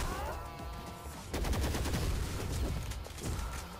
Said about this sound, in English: I'm not even looking, I'm just firing.